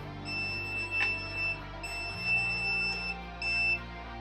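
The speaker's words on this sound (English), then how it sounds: "Filament dryer finished. It was beeping at me." A 3D-printer filament dryer emits repeated high electronic beeps in short bursts over a steady low hum, fairly quiet and close by.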